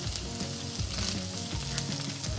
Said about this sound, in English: pretty much I'm just frying the shrimp